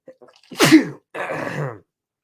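One sharp, close sneeze bursts out after a quick intake of breath, followed by a second, breathier exhale; no talking.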